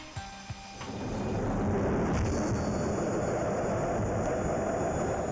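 A loud, broad jet roar from an F-18 military fighter aircraft on an aircraft carrier at sea builds up within the first second and then holds steady and powerful to the end, with no talking.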